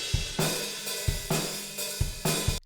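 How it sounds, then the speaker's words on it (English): An unmixed multitrack drum kit recording, slightly out of phase, plays alone: a steady groove of punchy kick hits and bright, crashing snare and cymbal strikes, loud and close. "Here's the drums, and they sound like this."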